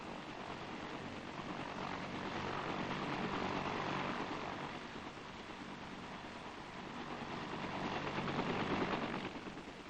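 US Army armed escort helicopters lift off over jungle in Vietnam, a steady dense roar of rotors and engines that swells and fades slightly as they climb, with no voices.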